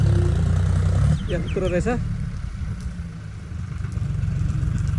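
A tractor engine runs on a farm with a deep, steady rumble that continues throughout, while someone speaks briefly over it near the start.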